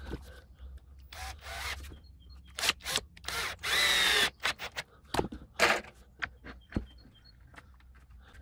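A power drill drives a screw down into WPC composite decking on an outdoor terrace build, with short bursts of motor whine and one longer sustained run amid handling clicks and rustles, fairly close and quiet.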